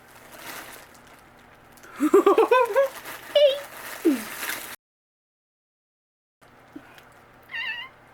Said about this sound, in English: let the cat play with the plastic for a little bit